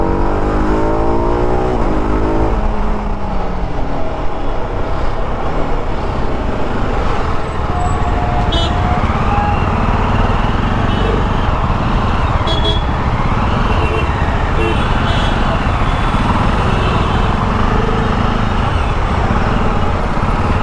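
TVS RR310 2024 motorcycle cruising on a Bengaluru highway, a loud, steady engine drone mixed with rushing wind and road noise, close and continuous throughout.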